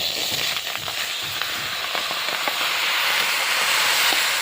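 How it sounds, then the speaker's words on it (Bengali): Tomatoes tipped into a hot wok for sauce: a loud, steady hiss and sizzle fills the whole stretch, with scattered sharp crackles and pops and no talk. "আর কড়াইতে টমেটোগুলো দিয়ে দেবো।"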